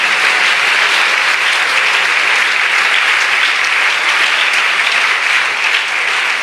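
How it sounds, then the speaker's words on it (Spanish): Church congregation applauding steadily throughout, a dense, loud wash of clapping that stays even from start to finish with no pauses. "Dele un aplauso al Señor ahora."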